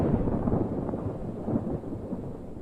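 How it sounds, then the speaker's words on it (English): A thunderstorm moving in from the north, a continuous low, heavy rumble with rolling swells and wind-like noise, moderately loud and unbroken. "A massive storm is coming from the north."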